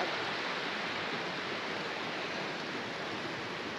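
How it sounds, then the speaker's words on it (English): Water in a stream running past a tent site on a mountain trail, a constant soft broadband rush that stays even throughout and has no voices over it. "as you can probably hear, there's beautiful water running through it"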